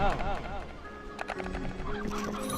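Clucking and squawking chicken sounds in Slime Rancher 2 come and go over background music and game effects, with a few sharp clucks in quick succession.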